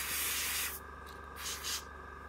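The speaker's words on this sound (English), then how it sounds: "So I'm kind of spraying at an angle so that the any excess doesn't go onto the deck" Spray painting the hull of a Bismarck model ship held at an angle: a broad airbrush-like hiss for the first moment, then two shorter bursts of spray over a steady low hum.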